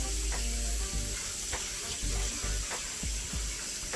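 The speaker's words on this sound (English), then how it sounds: "all I'm doing is just saturating my hair really, really good to make sure that is good and wet" Running water pours steadily while 4C textured hair is saturated during a wash day, giving a constant hiss with small splashing bumps and no talking.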